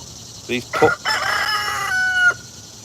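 A nearby young rooster lets out one full crow, starting with choppy rising notes and ending in a long, held cry.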